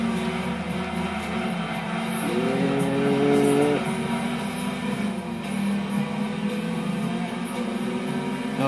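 A Shelby muscle car racing in Gran Turismo 2, its engine droning loudly with a rising pitch sweep as it accelerates and shifts, other cars and faint tire noise in a continuous game mix.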